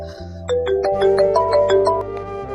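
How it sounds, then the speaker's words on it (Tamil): A mobile phone rings with a bright melodic ringtone, a quick rising sequence of chiming tones, near and clear, with no talk over it. "ஐயோ ஃபோன் அடிச்சிட்டு இருக்குதே"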